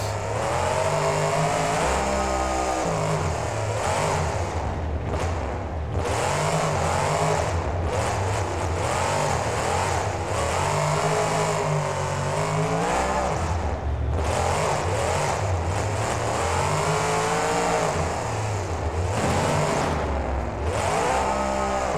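A monster truck engine in the BeamNG video game roars and revs continuously while the truck runs over crushed cars in a stadium freestyle, loud and sustained with surging pitch and occasional dips.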